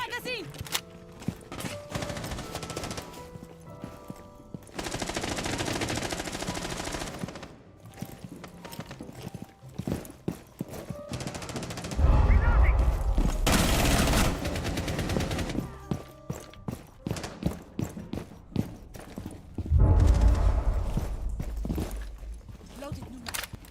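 Video game gunfire in bursts of shots and fusillades, with loud dense volleys, several pauses and a reload between them, while a voice talks over the action.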